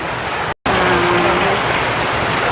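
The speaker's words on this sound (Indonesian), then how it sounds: "Hujannya agak meredak lah" Steady rain pours down outdoors near a market, a dense continuous hiss with a brief cut partway through and no talk over it.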